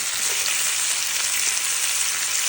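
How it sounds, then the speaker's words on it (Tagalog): Garlic and onion sauté in a pan as the base for pork ribs caldereta, a dense, even sizzle close up with no stirring breaks and no voices. "Gisa sa bawang sibuyas, siyempre."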